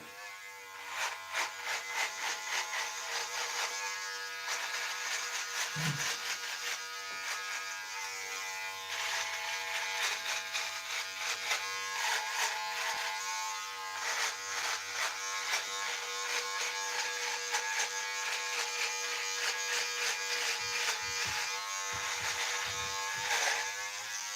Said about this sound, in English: No, I am going to shave this.